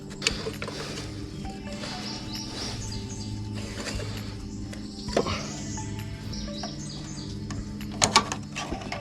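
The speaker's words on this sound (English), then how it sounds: "There's no way to grip this, so you have to use the oil wrench on this one." An oil filter wrench works a lawn mower's oil filter, making intermittent metallic clicks, scrapes and ratcheting knocks close by, with faint bird chirps in the background.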